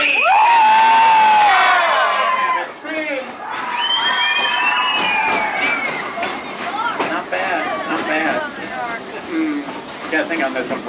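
Riders on a Silver Dollar City train ride scream and cheer together in a loud, sustained burst, then excited shouting and chatter from the crowd continue with rattling behind.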